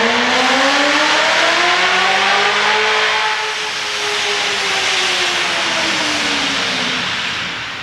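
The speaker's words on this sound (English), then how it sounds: "This is Akapovic exhaust." 2019 Corvette C7 ZR1 fitted with an Akrapovic exhaust revving loudly nearby, a rising then falling engine roar with a harsh exhaust rasp and hiss, no talking.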